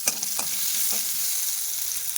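Eggs fry in a pan with salt, chili and turmeric, giving a steady close sizzle with a few brief stirring scrapes near the start and no voices.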